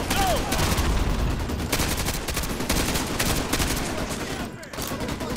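In the Modern Warfare 2 campaign, dense rapid gunfire from several weapons goes on continuously and loudly, like an automatic fusillade, briefly dipping near the end.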